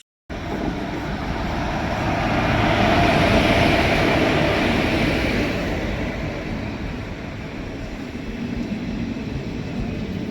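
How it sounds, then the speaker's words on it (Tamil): The Guruvayur Express pulls into Nanguneri railway station with a loud, sustained rumble of wheels and carriages that swells over the first few seconds and then holds steady, continuous and close, without any voices. "நம்ம போக வேண்டிய குருவாயூர் எக்ஸ்பிரஸ் வந்துருச்சு."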